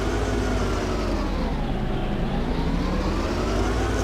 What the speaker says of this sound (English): Back to the really loud truck noises.